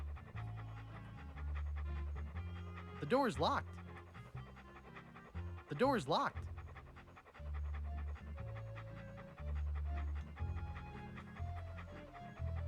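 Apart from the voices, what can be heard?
dog panting in the video game Monkey Island 2: LeChuck's Revenge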